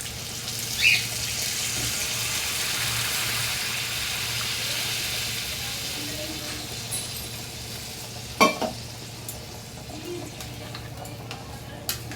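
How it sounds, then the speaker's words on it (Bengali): Hot water poured into a pan of curry with oil on the heat, a loud hissing rush that settles into a steady sizzle, followed by a few sharp clinks of a utensil. "এবার আমি জল দিয়ে দেবো গরম জল"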